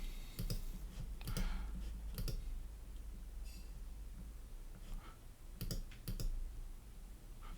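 A computer mouse clicks during a live coding session, faint scattered clicks in small clusters over a low steady hum, with quiet pauses between bursts.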